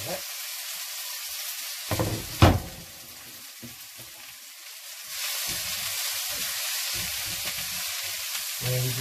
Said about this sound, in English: So yeah, so that all just goes straight in the pan.